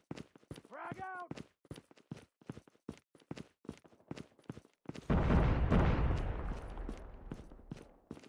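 A frag grenade in Call of Duty Mobile bursts into a heavy, rumbling blast that follows a run of close, rapid footsteps and a brief shout, and the explosion then decays over several seconds.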